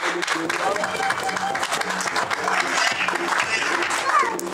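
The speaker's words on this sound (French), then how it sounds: "on applaudit pour maman" A church congregation at a Sunday service applauds for a mother, a dense, steady patter of clapping filling the room with a low murmur of voices and music-like tones underneath throughout.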